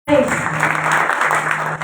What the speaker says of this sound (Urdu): خدا کی اس قدرت کے لیے تو زوردار تالیاں بجائیں